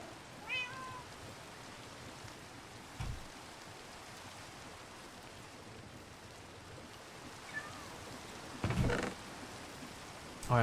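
Cat meowing in Minecraft, several short, faint meows scattered across a steady rain-like hiss of ambient wash, with a slightly louder cluster near the end.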